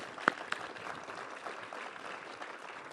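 A crowd at a groundbreaking for an ocean tech hub claps for the AltaSea staff, a soft, fairly distant patter of many hands with a couple of sharper claps early on.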